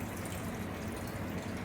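Water is poured into a clear mutton stew with carrot, beans, cauliflower and potatoes in a pressure cooker, giving a brief, faint, steady splashing stream.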